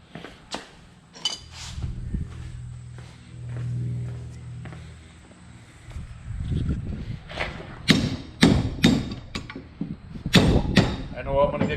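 A suspension part on a 2019 Ram 1500 being hammered into place, several sharp metallic strikes in uneven bursts, close and loud, with a person talking around them.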